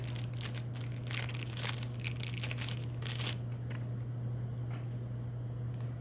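Plastic bag holding pottery clay crinkles and rustles as it is opened, bursts of crackling in the first few seconds that then thin out, close to the mic over a constant low electrical hum.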